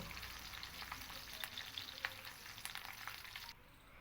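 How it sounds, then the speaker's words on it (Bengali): Curry leaves fry in hot oil with a steady crackling sizzle, with brief sharper pops from the leaves, until the sizzle suddenly drops away near the end. "এবার ওই একই তেলের মধ্যে আমি কারি পাতাটাকে ভেজে নেব।"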